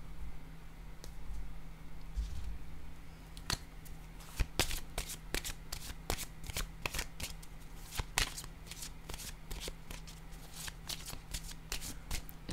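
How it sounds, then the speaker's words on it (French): Tarot cards are handled and drawn at close range, with quick papery riffles and sharp flicks coming in bursts, the card snaps crowded together from the middle onward and faint room hum underneath. "Je vais piger une carte rose."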